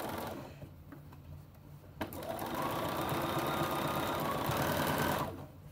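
A sewing machine runs a steady, continuous stitch along a seam of Jakarta shorts, starting up after a soft click and holding an even whir for several seconds before stopping.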